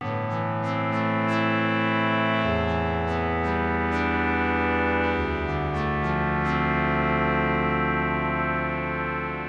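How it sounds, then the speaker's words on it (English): A sustained pad on a Korg Modwave wavetable synthesizer plays a slowly shifting chord with bright, gritty harmonics and small sparkling accents on top, continuous and loud. "let's just change it to make it more of a pad sound"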